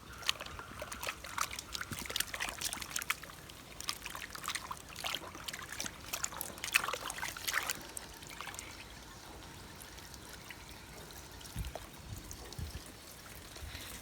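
Running water rinses hands after a wrist scrub during a handwashing demonstration, a steady trickle and splash that is busier in the first half, then settles to a quieter, even flow with a few faint knocks near the end.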